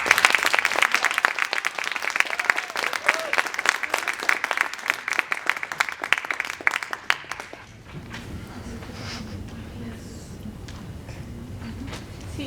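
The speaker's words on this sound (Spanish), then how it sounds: "un aplauso para ellos y para todo el equipo" Audience applause at a poetry series event launching a literary magazine, dense clapping filling the room for several seconds, then fading out as a voice begins speaking over a quieter background.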